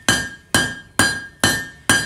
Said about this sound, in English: Now I hit it between my hammer and my anvil